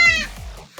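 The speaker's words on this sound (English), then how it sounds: "we're looking at my cat" A single close, short meow from a pet cat, bright and tonal, fading quickly near a water heater in a home.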